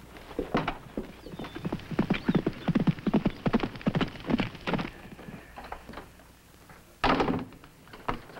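Horse hooves clip-clopping in an old Western television series, an irregular run of close, hollow hoofbeats with a louder thud near the end and no talking.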